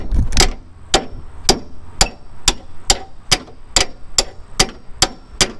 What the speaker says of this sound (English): take your ratchet